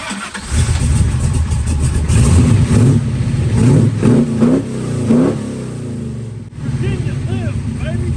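A 402 cubic inch big block Chevy fires up for the first time with a cranking catch, then barks through loud rising and falling revs, settling briefly before revving again, with voices talking over it.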